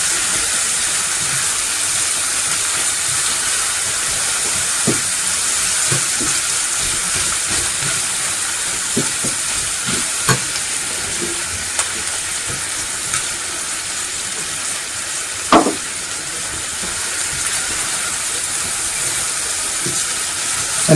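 Onion fries in cooking oil in a pan as a steady hissing sizzle that holds for a long stretch, with a few scattered louder pops and knocks and no voices.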